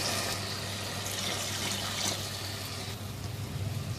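Water pours steadily into a cooking pot of potatoes and peas for rice pulao, a continuous close splashing rush that shifts slightly in tone as the pot fills.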